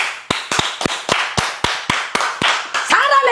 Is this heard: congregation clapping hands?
yes